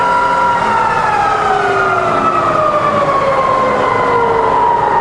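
A Bridgeport milling machine head runs in reverse at top speed, giving a loud steady mechanical whine with tonal harmonics that slowly drift downward in pitch, continuous and close, with no speech.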